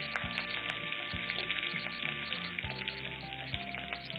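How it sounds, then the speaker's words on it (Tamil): Green chillies and curry leaves frying in hot oil for a Tamil wheat bread upma, giving a steady close sizzle with faint tonal hum and occasional low knocks from the pan. "கொஞ்சம் பச்சை மிளகா, காரத்துக்கு தகுந்த மாதிரி பச்சை மிளகா போட்டுக்கலாம்."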